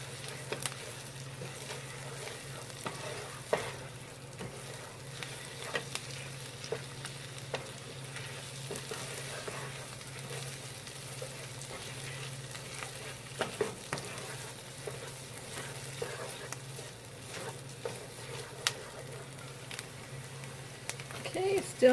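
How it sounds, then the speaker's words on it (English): Tomato paste and onions simmer in an oiled pan with a soft, steady sizzle, dotted with faint clicks and scrapes throughout. "I want the tomato paste to simmer with the onions before I add anything else to it"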